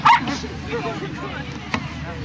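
A dog gives one short bark or yip near the start of an obedience demonstration at an outdoor gala day, then continues under steady talk from a handler giving commands.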